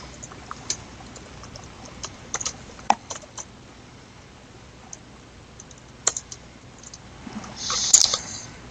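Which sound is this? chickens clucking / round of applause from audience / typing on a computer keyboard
typing on a computer keyboard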